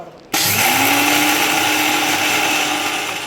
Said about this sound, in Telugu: ముందు వీటిని మిక్సీ పడదాం